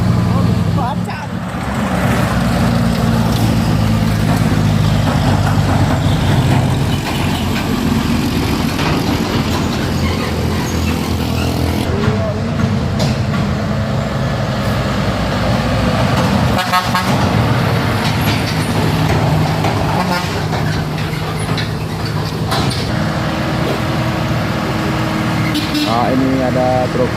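A Fuso tanker truck on a road passes with a loud, continuous engine rumble amid traffic and horn toots, while a person talks over it.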